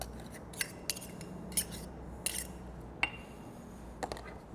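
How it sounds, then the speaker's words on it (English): A utensil mashes and mixes a stick of butter with chimichurri in a bowl, producing sparse, light clicks and scrapes against a quiet background. "Mash and mix this up really well."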